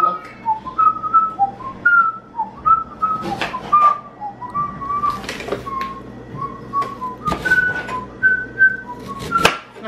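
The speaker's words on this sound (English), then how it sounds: "That's how you know it's me coming. The annoying whistle." A person whistles a bright, wandering tune in short melodic phrases, with a few thumps and clatters of kitchen handling while onion is being chopped nearby.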